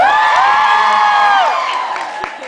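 A fan convention crowd whoops and cheers loudly, with high sustained yells from many voices swelling over applause, then fading somewhat toward the end.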